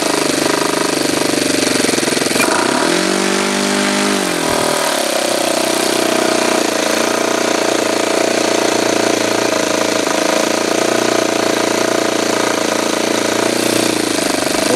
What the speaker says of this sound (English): It's not dying when I advance the throttle, so it's not blubbering either.